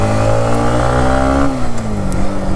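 A Suzuki Gixxer FI ABS motorcycle engine idles loud and close while warming up, a steady droning hum whose pitch dips slightly partway through.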